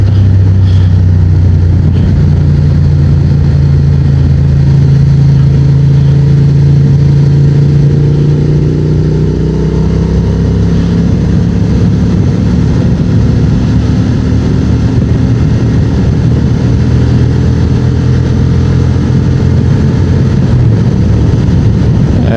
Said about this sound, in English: these are back roads here, they're pretty bumpy. Transalp seems to manage them pretty good.